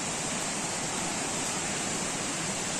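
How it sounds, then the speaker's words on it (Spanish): Waterfalls at the Balneario el Mamey swimming resort in Mecatán, Nayarit, a dense, steady rush of falling water filling the air with broad hissing roar, constant and fairly close. "se ve que hay cascadas"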